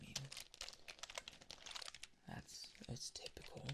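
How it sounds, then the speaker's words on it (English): Fingers tap across a typical computer keyboard in a soft ASMR game-store role-play, a quiet, close run of rapid uneven clicks with a brief pause partway, plus faint crinkling. "So this is a typical keyboard."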